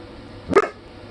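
A single sharp dog bark, close and loud, bursting out once in an otherwise quiet room.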